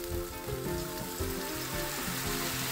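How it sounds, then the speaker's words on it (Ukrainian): Cabbage stews with red wine in a pan over medium heat, making a steady, close sizzle and bubbling that stays even throughout. "І тепер на середньому вогні це все тушкуємо."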